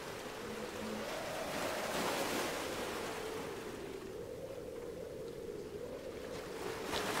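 Steady wash of sea waves on the shore heard from nearby, a continuous broadband rush that swells and eases slightly without pause.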